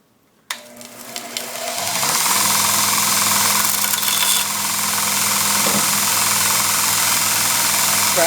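An 80-grit belt grinder, its belt fairly fresh, starts up and runs steadily, grinding on the spine of a Cold Steel Spartan knife with a loud, continuous whirring rasp.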